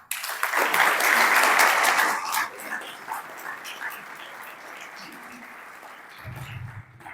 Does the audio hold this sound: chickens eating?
no